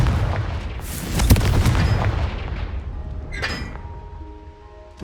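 A Confringo spell blast in Hogwarts Legacy, a loud booming burst followed by crackling debris and a bright chiming magical ring that fades over several seconds, with no talk.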